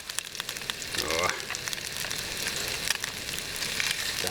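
Fresh grayling fish frying in a pan over an outdoor fire on the Kola Peninsula, a steady close sizzle and crackle with a brief louder spitting burst early on, running continuously throughout.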